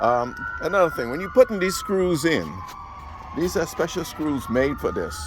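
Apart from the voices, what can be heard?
fire engine siren passing by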